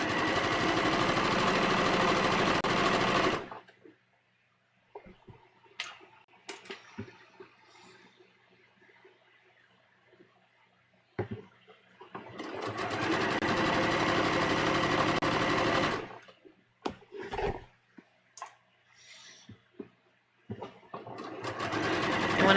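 Sewing machine stitching the back armhole of a bias-cut V-neck dress, two loud steady whirring runs of several seconds each separated by quiet handling of fabric, no speech.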